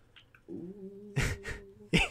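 A house cat lets out a drawn-out, low meow-like vocalization, followed by a couple of short, sharp sounds close by in a quiet room.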